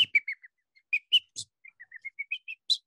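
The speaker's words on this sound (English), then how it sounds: "There's a robin alarming." An American robin gives an alarm call outdoors: a clear, close series of thin, high whistled notes and sharp chirps in quick succession, with short gaps between them and no other sound.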